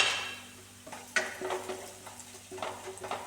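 Crushed chili frying with green tomato in a hot pan, a soft steady sizzle with brief stirring scrapes and light clinks of a utensil against the pan, close and alone.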